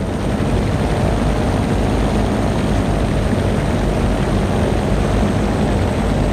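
A float plane's propeller engine drones in a flight simulator game, a dense, loud, unbroken roar with steady low throb and no voice over it.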